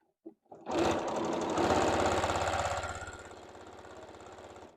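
A sewing machine stitches a qaspeq vest, starting after a couple of small clicks into a fast, rattling mechanical whir that runs loud and close for a few seconds, then eases slightly as it slows.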